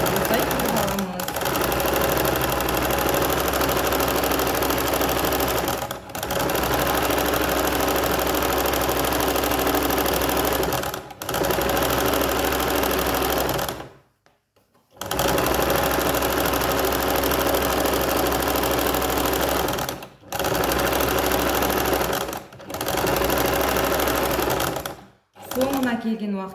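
Sewing machine stitching the folded opening of a bag's main fabric piece, a loud, steady motor hum running in long runs broken by brief pauses and one longer stop.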